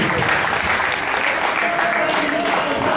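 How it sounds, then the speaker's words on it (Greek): Crowd at a kickboxing match applauds loudly and steadily, a dense continuous clatter of clapping with faint crowd murmur and a voice over the arena sound. "Ένα χειροκρότημα φυσικά για την διεκδίκηση."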